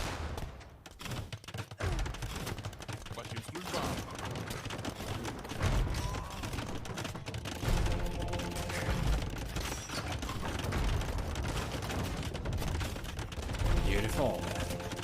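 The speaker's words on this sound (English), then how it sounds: "Age of Empires trivia. How many bombard cannons are here?" Bombard cannons and other gunfire in an Age of Empires match, sounding as dense, continuous battle volleys with booms and rattling shots throughout, loud and unbroken, with commentators talking over the action.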